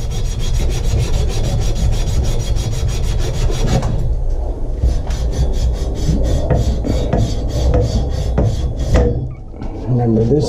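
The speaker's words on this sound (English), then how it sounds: "So let's sand that off." Sanding a pipe while installing a 40-gallon gas water heater: a steady, loud rasping scrape runs throughout, with rhythmic strokes growing more distinct in the second half and a brief drop near the end.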